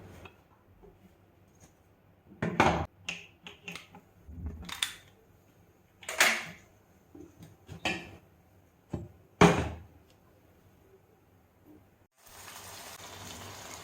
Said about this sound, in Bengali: এবারে গ্যাসটাকে আমি জ্বালিয়ে দেবো